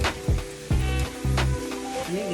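Burger buns brown in a small skillet with a soft, steady sizzle. A few low thumps and bursts of music sit over it.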